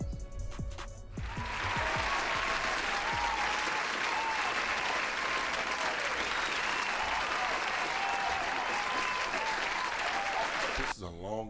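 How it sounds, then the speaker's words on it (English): Dense, sustained applause from a live audience during a stream, rising suddenly after a brief opening moment and holding loud and steady for about ten seconds before cutting off, with some voices mixed into the crowd noise. "This is a long applause."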